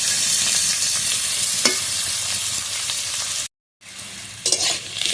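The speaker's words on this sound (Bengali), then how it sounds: "পেঁয়াজ আলু একসাথে ভেজে নেবো। আলুটা আর পেঁয়াজটা ভালোভাবে ভেজে নেব" Cut potatoes and onions frying together in a pan, with a loud steady sizzle and sharp spatula stirs, a brief dropout of silence, then sizzling resumes with more scraping; no talking.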